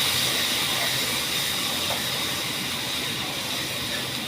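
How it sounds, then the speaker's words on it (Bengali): Dry ground chilli, cumin and turmeric sizzling in a pan after a splash of water, a loud, constant hiss that fills the whole stretch without a break. "একটুখানি শুকনো মশলার ওপরে জল দিলাম। এবার কষাবো ভালো করে"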